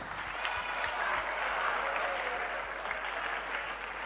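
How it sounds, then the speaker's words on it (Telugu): Steady applause from an audience at a graphology session, dense and continuous throughout without a break. "clap for your self that you became a graphologist"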